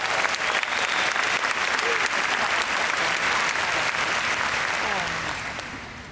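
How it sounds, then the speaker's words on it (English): Sustained applause from a large audience at an oncology nursing congress, dense steady clapping that holds for several seconds and then begins to fade toward the end, with a few faint voices mixed in. "So I want you to give yourself a round of applause too for being here."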